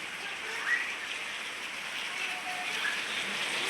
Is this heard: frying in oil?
no